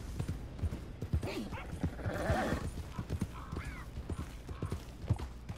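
Horse hooves clip-clopping at a steady pace in the video game Red Dead Redemption 2, with a whinny and a player talking over the rhythmic footfalls.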